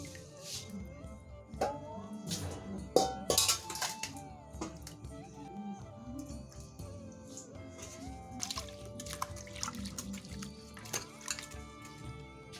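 Medicinal herbs washed by hand in water give quiet splashes, drips and trickles with occasional knocks against a vessel, soft and close throughout.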